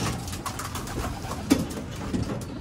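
Pet racing pigeons coo softly in a loft amid steady low background noise, with a few brief, slightly louder calls near the middle and end.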